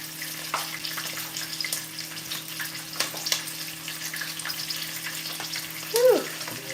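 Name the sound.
food frying in hot oil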